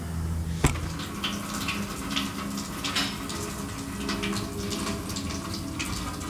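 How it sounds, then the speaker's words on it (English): Coolant drains from a 2021 Husqvarna TX300i motorcycle in a steady, close stream of running liquid with a faint clunk near the start and small splashes throughout. "we're going to start by draining the coolant"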